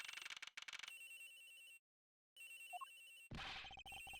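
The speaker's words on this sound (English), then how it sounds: "The ringing's coming from somewhere in here, sir." A telephone rings in Ace Attorney Investigations, a repeating electronic ring with a short silent gap before it resumes, ending with a brief burst of other game sound; no voices.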